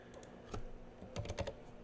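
Quick, light clicks of fingers typing on a computer keyboard come in small uneven clusters, close and quiet.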